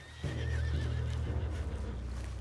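A horse in the video game Red Dead Redemption 2 lets out a loud, close whinny over a low engine-like rumble, with hooves faintly clopping as it fades.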